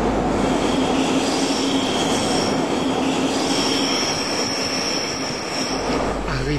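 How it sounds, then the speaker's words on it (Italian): A Milan Line 2 metro train roars steadily through a tunnel, loud and close, with a high metallic squeal of wheels running over the rumble. "Subito dopo Cimiano il metro scompare sottoterra"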